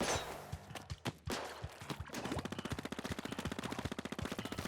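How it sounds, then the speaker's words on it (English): A shooter weapon fires automatically in Splatoon 2, a quick run of rhythmic game shots that speeds into a dense steady stream, heard close and loud with a few scattered effects at the start. "For shooters, for example, it allows you to shoot as an automatic."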